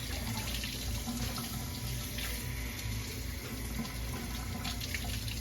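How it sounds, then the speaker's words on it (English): Tap water runs steadily over a raw beef tenderloin as it is rinsed, a continuous close splashing rush filling the sink throughout. "We're going to rinse it off."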